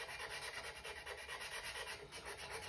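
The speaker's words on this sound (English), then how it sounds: "usually I like to use a very fine diamond file because you don't want to use a rough file to do that" A fine diamond file rasps against a tool edge held on a wooden block, quiet close scraping strokes in an even repeating rhythm with no voices.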